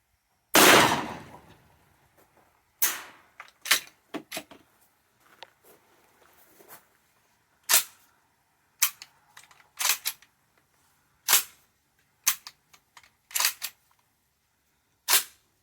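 An Emperor Mogul Ultra 20 gauge shotgun fires roughly a dozen sharp, loud blasts at irregular intervals, with a heavy first shot and the rest spaced a second or so apart, with quiet gaps between.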